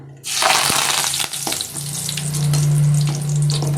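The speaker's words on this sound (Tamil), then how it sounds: "கருவேப்பிலை நல்லா வறுத்து பாருங்கள், கருவேப்பிலை வந்துச்சு." Curry leaves crackle and sizzle sharply as they hit hot oil for gourd pakoda, a loud close burst that settles into steady frying with a few pops, no voices.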